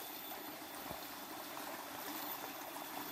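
A river stream runs under a bridge in a forest, making a steady, even rush of water with no breaks throughout.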